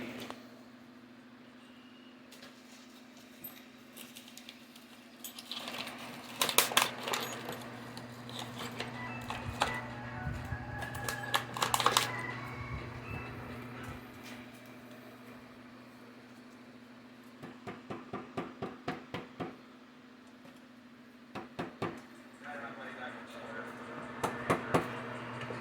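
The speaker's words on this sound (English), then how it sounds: "We use the rubber mallet to kind of get her seated." A rubber mallet taps a slip-on exhaust into place on a 2023 Indian Challenger motorcycle in bursts of quick, dull knocks, close and moderately loud, with quieter pauses between over a faint steady hum.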